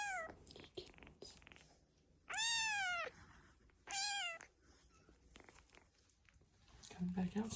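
Kittens meow in several loud, high, wavering cries with quiet gaps between them, close by, along with soft scuffling and a quiet voice.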